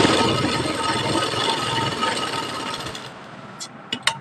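A sewing machine stitches a pocket into a kurti, a dense rapid mechanical chatter running steadily for about three seconds before stopping, followed by a few faint clicks.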